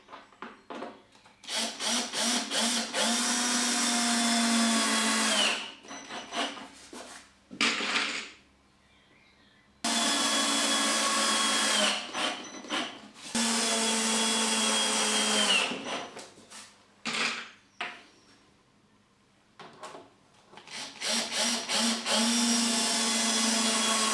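Cordless power drill driving self-countersinking screws into a wooden garden gate, loud whirring bursts lasting several seconds each, four runs separated by short pauses, close up with no talking.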